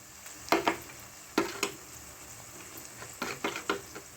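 Chickpeas frying in a pan for chana dum biryani with masala paste going in, a low sizzle broken by several sharp scraping and stirring clatters, close and fairly quiet, with no talking.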